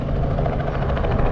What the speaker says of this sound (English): you see that helicopter just flew in and landed on the helipad.